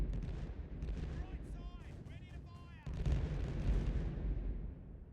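Ship cannons fire a broadside in the Caribbean Legend video game, with deep booming blasts and rumble under a shouted order and a brief high whistling sweep.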